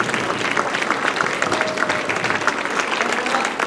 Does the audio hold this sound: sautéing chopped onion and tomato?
no